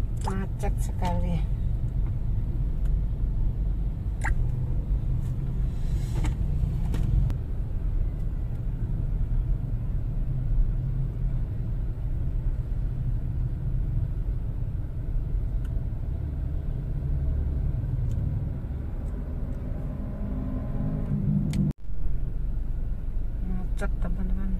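Cars sit in a traffic jam on Jalan Kutai, a continuous low rumble of idling and creeping engines close by, with a person talking over it throughout.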